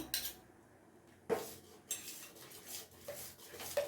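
Ragi manni being stirred in a pot, Mangalore style, heard as quiet scraping and clinking of a metal spoon against the pan in a few irregular bursts, no talking.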